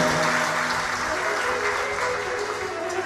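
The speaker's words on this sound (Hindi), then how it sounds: "जोरदार ताली बजाकर ईश्वर जी और गोरा जी का स्वागत करें" An audience at a religious katha gathering applauds loudly to welcome the deities, sustained hand clapping over steady musical drone, with a voice faintly present beneath.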